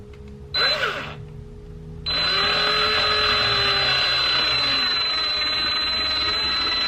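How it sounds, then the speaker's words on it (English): A power drill bores into the bumper of a BMW F80 M3 while a carbon fiber lip is fitted. A brief whirring burst comes first, then a sustained loud, steady drilling whine close up. "gonna drill in here."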